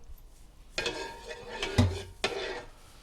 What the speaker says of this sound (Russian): Теперь мы можем заправить его рыбным соусом и тщательно перемешать